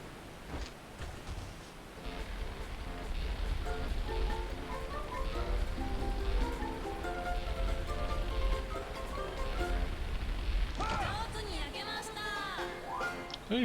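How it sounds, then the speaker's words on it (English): Steady rain falls on a surface and gives a constant hiss throughout, with faint voices and tonal sounds mixed in underneath. "Ooh, you're getting rain?"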